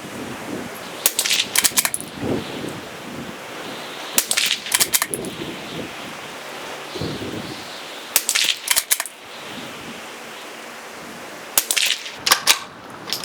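A CZ 457 rifle fires Federal Premium Gold Medal Target ammunition, sharp cracks arriving in four small clusters spread across the clip over a steady outdoor hiss.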